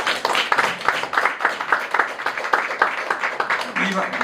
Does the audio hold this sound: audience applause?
yes